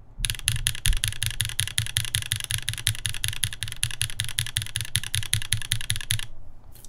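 Rapid, steady typing on a keyboard with copper-lubed switches, dense crisp clacks in a fast even rhythm, close and loud, stopping just before the end.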